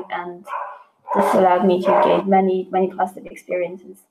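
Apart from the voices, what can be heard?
dog barking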